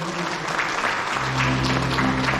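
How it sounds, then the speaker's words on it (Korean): Applause from guests at an art museum exhibition opening, a continuous scattered patter of hands clapping over a low droning hum, steady and moderately loud for a couple of seconds. "예쁘게 해주신 것 같은데요. 박수 보내주십시오."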